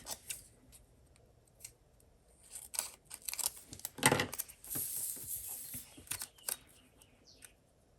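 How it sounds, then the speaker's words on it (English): Scissors snipping through a sticker sheet to cut it in half, heard as a few close, crisp cutting crunches and rustles of the paper at a quiet desk, with no talking. "I'm just going to cut this in half."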